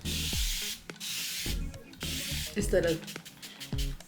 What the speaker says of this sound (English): one thing I really like about this mister is you can do a really long mist instead of a whole bunch of tiny short ones